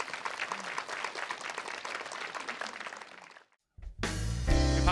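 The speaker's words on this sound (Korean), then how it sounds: "우리 하나님께 영광의 박수 올려드리겠습니다." A church congregation applauds together, dense sustained clapping that fades out, followed by a short pause and then loud music starting.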